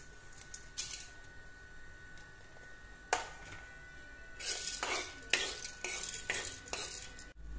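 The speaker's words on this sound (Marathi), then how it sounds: "त्याच पद्धतीने आपल्याला हरभऱ्याची डाळ भाजून घ्यायची आहे।" Chana dal dry-roasts in a pan, sounding as quiet clinks and scrapes of a spoon against the metal with bursts of rattling, rustling stirring, close and intermittent with no talking.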